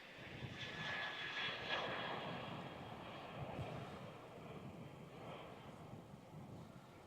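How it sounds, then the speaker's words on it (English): A Qantas airliner on very short final to touch down at Melbourne Airport, its engines giving a steady broad roar with a faint high whine, swelling slightly early and then holding as the jet passes, with no talk. "very short final. Qantas 156, just about to touch down"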